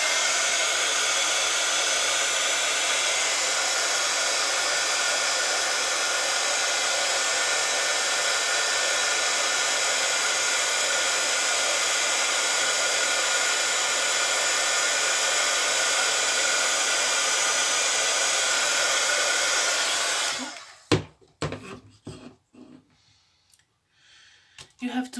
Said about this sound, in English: You have to move the blow dryer